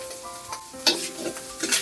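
Onion and garlic sauté in a pan while cooking pancit and carbonara, a close steady sizzle broken by quick stirring scrapes and light clinks of a utensil.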